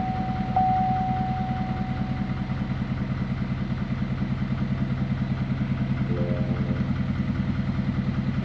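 An L5P Duramax diesel pickup engine idles steadily nearby with a low, even clatter that runs unbroken throughout, and a brief faint tone briefly sounds over it.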